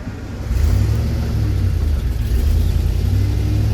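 An LS V8 engine with Daytona Sensors Smart Spark ignition and a carburetor rumbles as the clutch is let out, a loud steady low idle that swells after a brief quieter start and then holds.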